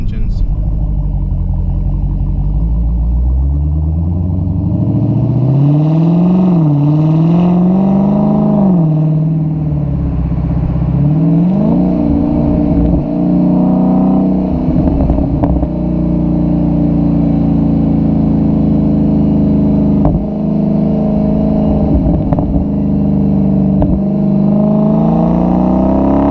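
A 2017 Dodge Challenger SRT Hellcat with its 707 hp V8 rumbles deeply and revs up and down, loud and close, with the engine note rising and falling through the whole stretch.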